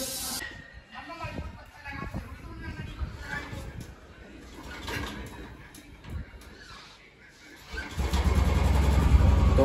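A Royal Enfield Bullet 350 motorcycle engine starts: people talk over faint background noise at first, then near the end the engine catches with a loud, close, low rumble that keeps running.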